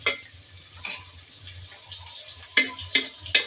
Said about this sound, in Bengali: পেঁয়াজ, রসুন, তেজপাতা, কাঁচামরিচ, এলাচ, দারচিনি সব কিছু ভেজে নিচ্ছি।